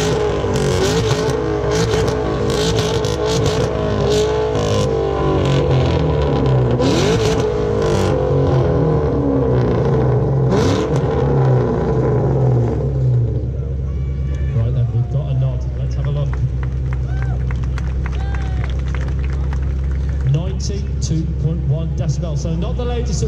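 A supercharged 5.4-litre V8 in a Shelby Mustang GT500 with 650 horsepower rumbles loudly up close, then revs hard through repeated bursts before settling into a lower idle, with someone talking over the first half.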